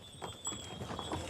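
Donkey hooves clip-clop on a Santorini island path where visitors ride and dismount, a few quick close hoof strikes in an uneven rhythm over a low background murmur.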